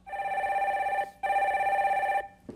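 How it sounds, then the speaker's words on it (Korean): Telephone ringing as a caller is connected on a Korean broadcast: two long electronic trilling rings with a short gap between them, loud and clear, then a faint click as the line opens. "전화 연결해 주세요."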